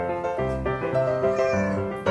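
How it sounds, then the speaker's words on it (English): A pet cat meows indoors close by, giving a string of drawn-out, tonal cries heard on their own without talk. "Meow."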